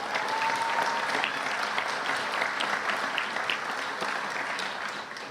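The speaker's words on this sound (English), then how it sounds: "Let's give her a round of applause" Audience applause at a Louisville Metro Police Department promotion ceremony, a steady broad wash of many hands clapping together for about five seconds, fading slightly at the end.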